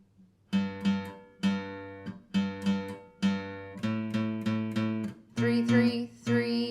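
Guitar playing a song's repeating riff, clean plucked notes in short phrases with steady rhythm, picked out alone and close, the last bar strummed fuller.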